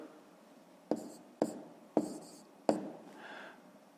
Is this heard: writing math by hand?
yes